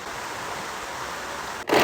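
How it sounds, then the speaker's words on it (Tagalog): Heavy rain falling as a steady, dense hiss throughout, with a sudden louder rushing burst at the very end. "Lumakas na yung ulan."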